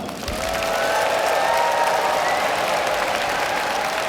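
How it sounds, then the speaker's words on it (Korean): A crowd at a South Korean political rally breaks into loud, sustained applause, a dense wash of clapping that holds steady with faint cheering inside it. "우리 함께 모두 큰 박수를 쳐주시기 바랍니다"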